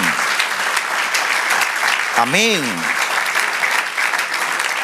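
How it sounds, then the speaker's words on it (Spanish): Applause from a church congregation during a Spanish-language sermon, a steady dense wash of clapping throughout with a voice speaking over it partway through. "Dele aplauso al Señor"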